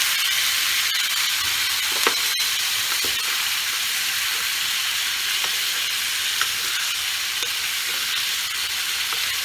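Spices sizzle steadily in a hot pan for kumror chokka, a Bengali pumpkin dish, with a broad continuous hiss and a few sharp clicks, while hot water is added to the pan a little at a time.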